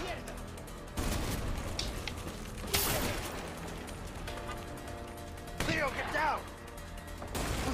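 Bursts of rapid gunfire in the video game A Way Out crackle in several loud volleys, with steady background noise between them and no clear talk.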